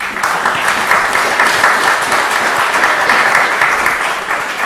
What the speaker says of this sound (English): So you give them a round of applause, please.